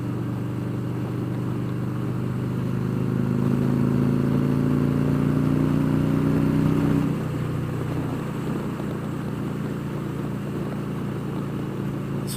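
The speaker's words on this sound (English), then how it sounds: "This is the first time I've ever been out to this facility on a motorcycle before." A motorcycle is ridden along a road toward a facility. Its engine drones steadily, climbs in pitch and loudness for a few seconds, then eases back to an even hum.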